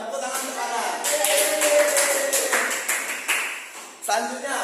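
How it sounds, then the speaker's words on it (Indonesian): Classmates in a fifth-grade science lesson clap for a student in a quick series of sharp claps broken by short pauses. Voices talk and call out over the clapping. "Tepuk tangan untuk kanan."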